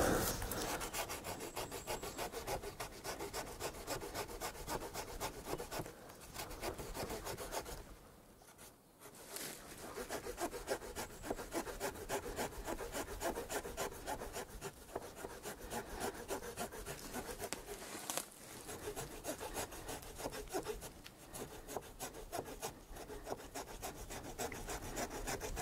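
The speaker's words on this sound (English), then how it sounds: "That's a sharp little saw." A Victorinox Farmer Swiss Army knife's small, rigid saw cuts through wood in steady, rapid rasping back-and-forth strokes, close and continuous with a brief pause partway through.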